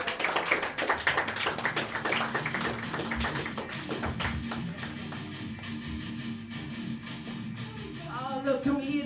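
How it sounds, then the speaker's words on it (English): Audience at a comedy bar claps for an arriving comedian: a thin, uneven smattering of hand claps from a small crowd that tapers off, with a voice speaking near the end. "can we hear that applause again?"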